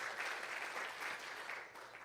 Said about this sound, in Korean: 다 같이 박수로 잠시 같이 축복해 주시면 감사드리겠습니다